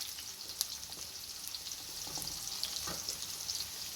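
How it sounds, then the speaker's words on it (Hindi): Onions frying and being stirred in oil until golden for a chicken aloo biryani, a steady close sizzle broken by faint spoon scrapes throughout, with no talking. "प्याज को थोड़ा मिक्स कर लेंगे ताकि अच्छी तरह ये भून जाए"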